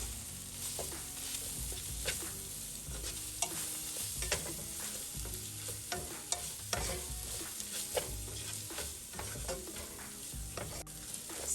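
Turmeric and coriander sauté in a pan for chicken tikka masala gravy, a steady close sizzle with frequent scraping stirs and light clinks throughout, no voices.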